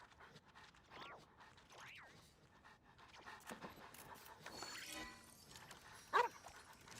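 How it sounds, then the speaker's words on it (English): Dogs in the teapot of the video game Genshin Impact pant in quick, soft bursts. There are rising whimper-like yips and a sharp little bark near the end, heard fairly close over a quiet backdrop. "I have dogs everywhere in my teapot."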